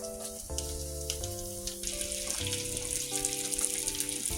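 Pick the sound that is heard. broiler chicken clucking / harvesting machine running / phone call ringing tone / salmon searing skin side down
salmon searing skin side down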